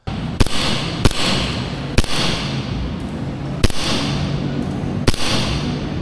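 A Nighthawk 2011 series airsoft pistol fired on a range, six single sharp snaps spaced irregularly about a second apart, loud and close over a light background hiss.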